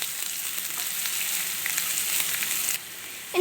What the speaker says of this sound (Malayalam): ഇനി നമുക്കിതെല്ലാം കൂടെ ഒന്ന് വഴറ്റിയെടുക്കാം.